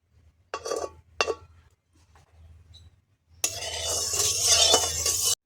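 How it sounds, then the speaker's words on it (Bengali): Spices dropped into hot oil for tempering a banana flower ghonto, a sudden burst of loud sizzling after a few quiet scrapes and clinks, then crackling steadily until it cuts off. "ফোড়নে দিয়ে দিলাম। একটু লাল হওয়া পর্যন্ত অপেক্ষা করতে হবে।"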